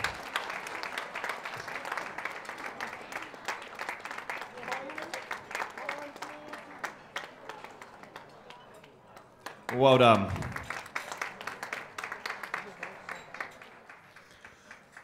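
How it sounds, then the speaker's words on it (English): Audience applause at a school secondary sports awards ceremony in Bangkok, a steady broadband patter of clapping running through the clip, with a brief louder burst near the middle and a voice speaking briefly over it. "You even get your own clap all to yourself."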